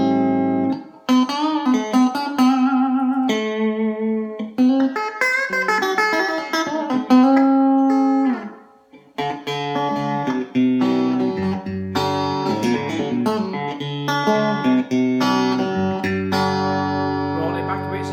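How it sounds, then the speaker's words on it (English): A Stratocaster electric guitar with a modified TBX tone control and trimmed treble plays a lively run of single notes and chords with a slightly nasal, honky tone, loud and close, with no talking. "So it introduces a slight nasal honk."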